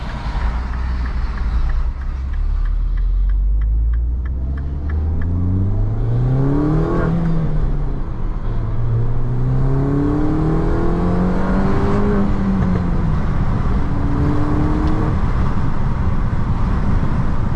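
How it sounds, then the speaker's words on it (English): A Mini Cooper S R56 with a stage 1 tune pulls hard on a drive around Contermanskloof. The engine note climbs repeatedly through the gears with brief drops at each shift, loud and close from inside the cabin. "so I'm going to take the car for a quick drive just to make sure that it's all good."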